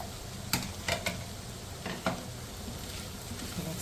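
Chicken pieces go into a hot pan with crushed chillies for Mongolian chicken, bringing a few sharp clattering stirs over a steady background sizzle of frying, close and moderately loud with no talking.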